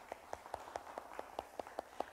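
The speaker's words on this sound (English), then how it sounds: "Let's give Norm a round of applause." Rapid, evenly spaced handclaps from an audience in a sanctuary, honoring a man's birthday with a round of applause; the claps are fairly soft and steady, with no voices over them.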